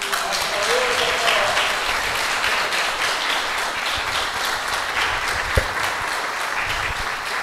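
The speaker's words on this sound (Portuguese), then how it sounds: "Quem gostou, pode aplaudir." An audience at a general workers' meeting in a spiritist center claps together in a dense, even wash of applause that holds steady throughout, with one brief louder knock near the end.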